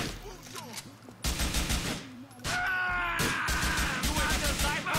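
Gunfire rattles in Grand Theft Auto 4 as rapid bursts of shots crack close and loud, dense near the start and continuing through the rest, while someone talks over the shooting.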